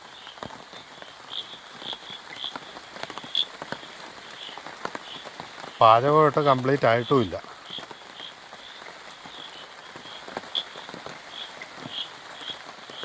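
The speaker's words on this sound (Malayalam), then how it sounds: "രാത്രി ആയപ്പോൾ അത്യാവശ്യം കിടിലം മഴ പെയ്തുകൊണ്ടിരിക്കുന്നു" Heavy night rain falls steadily across a forest campsite, a dense patter and hiss throughout with frogs croaking in the background; someone talks briefly midway.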